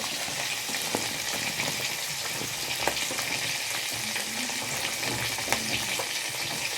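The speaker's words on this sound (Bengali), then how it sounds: "মাছগুলো ভাজা যাচ্ছে" Fish frying in a pan in a home kitchen, a steady close sizzle and crackle of hot oil with occasional spatters, no talking.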